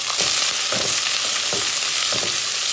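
Onion, green chilli and curry leaves sizzle in hot oil for tempering. A loud, dense frying hiss runs throughout, broken by a few soft stirring scrapes.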